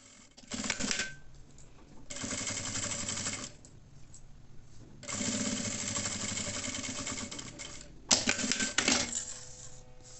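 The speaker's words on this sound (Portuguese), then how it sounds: "vou passar uma costura aonde eu fiz essa marcação" A sewing machine runs in three bursts of rapid stitching, sewing a seam along a marked line on fabric for a double pliers holder, with short quiet pauses between runs and no talk.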